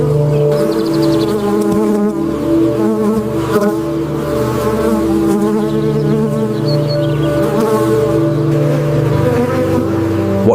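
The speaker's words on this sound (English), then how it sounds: "fanning it with their wings to evaporate the moisture, and then storing it in the comb cells" Dense, loud buzzing of many honeybees fanning their wings in a colony, a steady humming drone that fills the whole stretch without pause.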